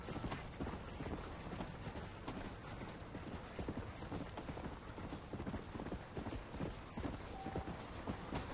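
Horse hooves clip-clop in a steady, busy rhythm as a horse gallops in the Red Dead Redemption video game, layered over a dense, constant game soundscape.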